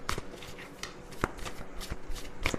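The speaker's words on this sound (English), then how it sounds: "These cards are big, so I have to shuffle them this way." Large tarot cards are shuffled by hand in quick papery riffles and taps, close and crisp, with repeated bursts of card-on-card slaps and no speech.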